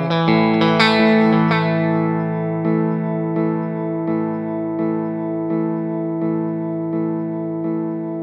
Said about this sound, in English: So I'll just go back to digital sound, say with one repeat.